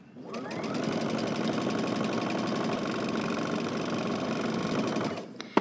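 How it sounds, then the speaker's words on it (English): A sewing machine runs at a steady, fast rhythm, understitching close to the edge of a dress facing through all thicknesses. It whirs continuously and close by, without talk, then stops with a small click at the end. "you're going to stitch close to the edge through all thicknesses, only on the side of your facing"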